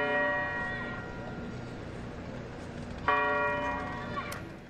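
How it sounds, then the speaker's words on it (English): Church bells ring out in Memphis on the anniversary of Martin Luther King Jr.'s death, two distinct resonant bell strikes with long decaying tones over a low background hum. "Bells rang in Memphis, where King was shot and killed 50 years ago today."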